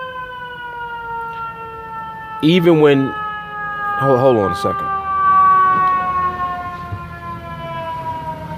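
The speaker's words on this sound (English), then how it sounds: "Ambulance passing by." An ambulance siren passes nearby, its steady wailing tones sliding slowly downward as it goes by, while someone speaks briefly over it.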